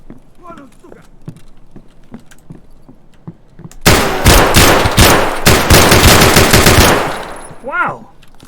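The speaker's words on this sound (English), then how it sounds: "I shot him right in the head" Gunfire in the video game Escape from Tarkov, a loud sustained burst of rapid automatic shots that starts abruptly after quieter background sounds with a voice, then cuts off, followed by a short vocal outburst.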